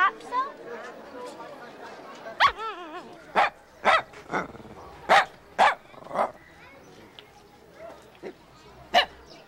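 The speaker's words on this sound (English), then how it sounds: "Lhasa Apso?" A Lhasa Apso dog barks in a series of sharp, fairly loud yaps spaced unevenly over several seconds, with a few softer whines and vocal sounds between them.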